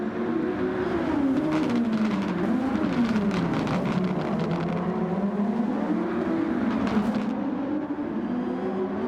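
Racing cars in Gran Turismo 7 during a Super Formula series race, a steady loud engine drone whose pitch rises and falls through gear changes as cars close in and lap one another, continuous throughout.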